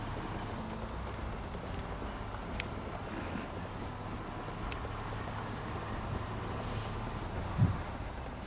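Low rumbling of a heavy truck going by at a distance, with a short hiss of air brakes near the end.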